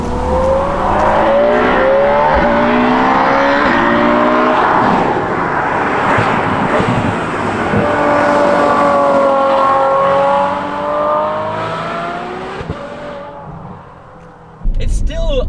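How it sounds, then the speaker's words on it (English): Ferrari F12 Berlinetta V12 with an IPE exhaust revving hard and loud, the howl rising and falling through repeated sweeps before dropping off near the end. "the sound of the IPE exhaust that I've installed on this car is still a wonderful thing"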